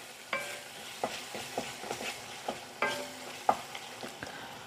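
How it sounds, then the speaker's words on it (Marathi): A spoon stirring pomfret fish curry masala in a sizzling pan, a series of distinct scraping and clinking strokes roughly once a second over a soft, steady fry hiss. "आता हे सगळं व्यवस्थित मिक्स करून घेते."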